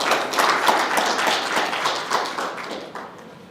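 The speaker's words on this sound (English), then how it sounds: "Ladies and gentlemen, a round of applause, please, for our distinguished panel." An audience applauds a distinguished panel at a diplomatic session on the Five Islands campus of the University of the West Indies: dense, steady clapping from many hands that fades slightly toward the end, with no speech over it.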